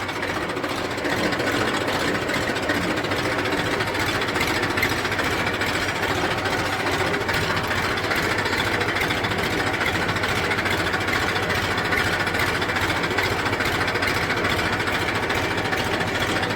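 A Massey Ferguson 1035 tractor runs steadily in reverse gear, its engine a continuous, loud, even drone with a knocking mechanical texture that holds without break.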